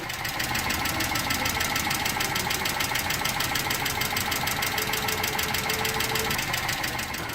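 A Hyundai YF Sonata engine idles with a rapid, regular tappet ticking from inside the engine, a loud, close, even mechanical clatter riding over a steady engine hum the whole time, without talk.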